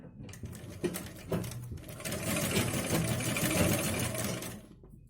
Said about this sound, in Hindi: इस तरह से हम इस पे सिलाई लगा देंगे।